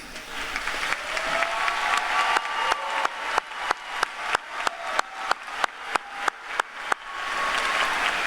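A high school commencement audience bursts into applause, the clapping swelling into a steady crowd patter, then settling into a string of evenly spaced single sharp claps before the broad applause resumes near the end.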